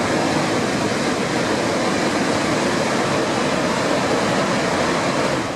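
Victoria Falls in Zimbabwe roars with a dense, steady wash of falling water, a constant close rumble that fills the whole stretch without a break and carries no voices.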